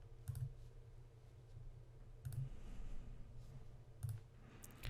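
Computer mouse clicks at an office desk, three sharp, faint clicks spaced about two seconds apart over a quiet low hum.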